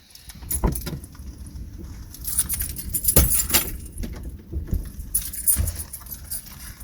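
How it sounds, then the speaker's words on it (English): Jangling metal and plastic rattle as a Honda Clarity smart key fob is handled and removed from the car, with several sharp clicks and knocks at close range, no talking. "Now take the smart key out of your vehicle."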